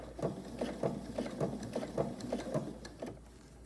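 A sewing machine stitches through a vinyl pouch in a steady run of close, rapid mechanical taps and whirring, with brief pauses between bursts, alone without voices.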